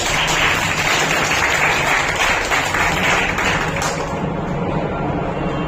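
Loud, sustained applause from an audience at an award ceremony fills the room for the host, a thick continuous wash of many clapping hands that holds steady and eases slightly near the end.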